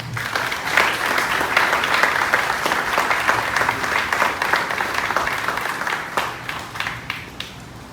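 A crowd applauds steadily and fairly loudly for about eight seconds to welcome August Pfluger, a congressional candidate announcing his run in San Angelo, West Texas, with the clapping thinning slightly near the end.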